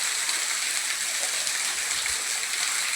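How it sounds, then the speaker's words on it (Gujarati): Water pushed out under pressure by a running motor pump from a farm well about 30 to 40 feet deep, a steady, loud, continuous rushing gush with no voices. "આ મોટર ચાલુ છે તો પાછી પ્રેશરથી પાણી બહાર કાઢે છે"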